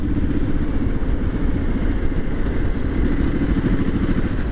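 A Triumph SS 900 motorcycle engine runs steadily and close, a dense, continuous rumbling drone with a clattering mechanical edge that holds an even level throughout without pauses.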